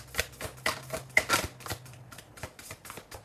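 Cards are shuffled up close in quick riffling bursts, a rapid flutter of soft clicks that rises and falls.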